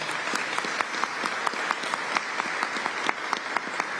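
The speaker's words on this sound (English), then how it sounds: "Let's give him a round of applause as well" An audience applauds at the New York Governor's public safety announcement, a steady, moderately distant round of clapping with scattered sharper claps standing out through the wash.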